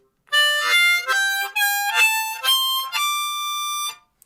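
A harmonica plays a blues scale, a rising and falling sequence of sustained notes, one after another, bright and reedy, with no voices.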